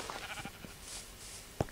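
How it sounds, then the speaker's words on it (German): A sheep in the Minecraft PE video game gives a few faint, brief bleats against quiet background noise. "Ein Schaf."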